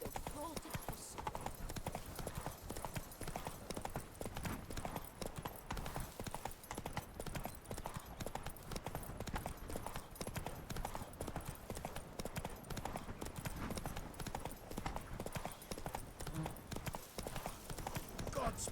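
Roach, the horse in The Witcher 3, clip-clops along in a steady stream of hoofbeats, faint and low in level, with voices talking over the top.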